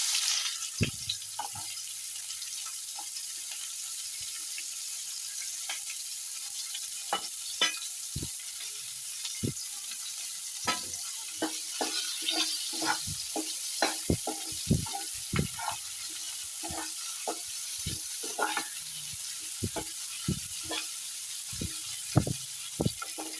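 Onions fry in a pan for a banana flower and prawn curry, a soft continuous sizzle under frequent sharp ticks and scrapes of stirring, close and moderately quiet, with no talking.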